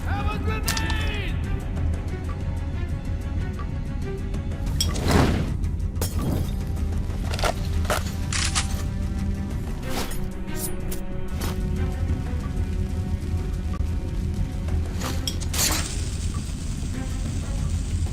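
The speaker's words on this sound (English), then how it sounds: "I'm throwing a grenade, man!" A grenade blast in the Metro Last Light shooter, a booming thud about five seconds in amid gunfire bursts and sharp impacts, with a voice shouting over the dense, loud combat.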